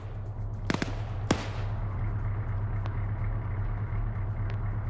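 A couple of sharp, muffled blasts of mines going off in a town in a video game, early on over a steady low rumble, with a few fainter pops further off afterward.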